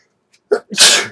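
A single loud, close sneeze during a live stream: a short sharp intake followed by an explosive burst, with no talking.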